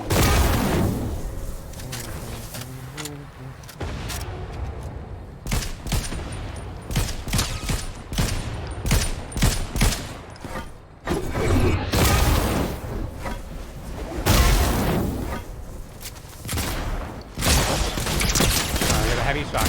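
Heavy shotgun blasts in a video game land as repeated loud booming shots, scattered in irregular clusters across a stretch of gameplay alongside other game effects.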